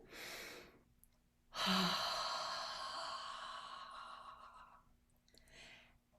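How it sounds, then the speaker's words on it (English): A person blows forcefully out through an open mouth as if fogging a mirror, giving a short breath, a pause, then a long, loud breathy exhale that fades, followed by a softer breath, all close and alone. "fog the mirror. Really blow into it."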